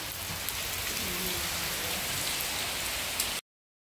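Rain falling steadily outdoors in a rural village yard; a dense, even hiss of raindrops close by, continuous until it cuts off abruptly, with no voices.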